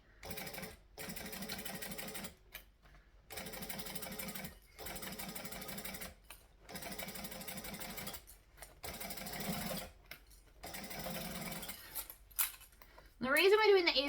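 A sewing machine stitches a handbag seam at a 1/8 inch allowance in several steady bursts of rapid whirring, broken by short pauses, with a clink of handling at the end.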